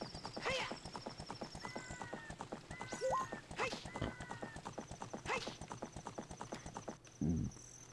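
In the video game Ocarina of Time, a horse's hooves clip-clop in a steady fast rhythm up close, with whinnies breaking in over the galloping and a person talking over it.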